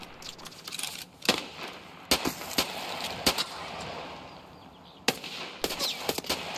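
Sharp gunshots and cracks in the video game Escape from Tarkov, scattered single reports and short bursts over a busy background of game ambience.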